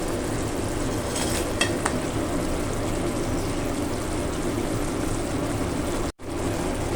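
Fried pork chops being stirred into tomato sauce in a pan, a steady close sizzle with soft scraping stirs running throughout, then a brief dropout near the end.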